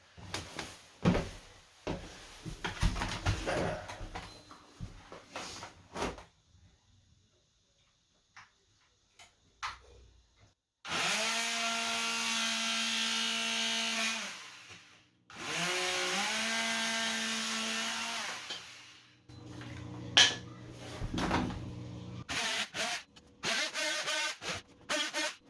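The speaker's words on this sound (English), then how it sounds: "I'm gonna use the oscillating tool and trim all those shims flat" Oscillating multi-tool trimming shims flat during a bathroom renovation while installing a Kohler shower base, running in two sustained loud bursts of steady buzzing with scattered clicks and handling knocks around them.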